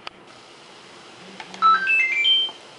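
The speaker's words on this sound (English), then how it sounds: "Sorry, that's my phone." A mobile phone goes off nearby with a quick rising series of bright electronic beeps and tones, briefly and fairly clearly, with no talking.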